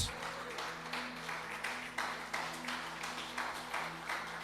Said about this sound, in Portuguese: você pode aplaudir Jesus se você quiser